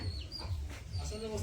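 Chickens cluck softly around a village home, their faint calls mixed with a low background hum and a voice nearby.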